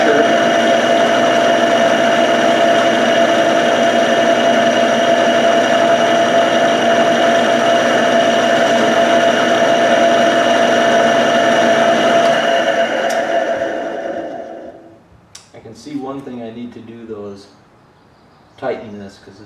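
A motor-driven buffing wheel polishing a part for a Suzuki GS550 cafe racer motorcycle, a loud steady whirring hum for about thirteen seconds that winds down, followed by someone speaking.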